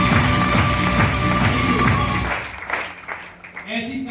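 Loud audience applause at a Safe Shop closing event fills the first half, dense and sustained, then thins into scattered claps and background voices.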